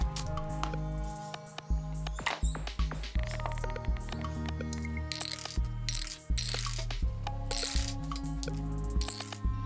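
Dice, including chunky D20s, clatter down a handmade wooden spiral dice tower in rapid bursts of sharp knocks and rattles, close and bright, with brief pauses between runs.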